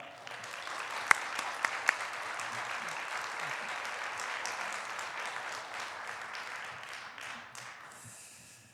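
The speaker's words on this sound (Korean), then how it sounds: "큰 박수로 환영해 주시기를 바라겠습니다" A congregation at a church lay leaders' seminar claps to welcome the bishop, sustained even applause with a few sharper claps standing out early, tapering off at the end.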